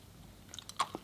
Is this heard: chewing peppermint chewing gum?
yes